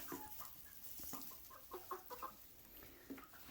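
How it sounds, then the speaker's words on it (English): Hens cluck softly inside a winter chicken coop, a series of short, faint clucks and murmurs close by, scattered irregularly over quiet background noise. "our other hens here"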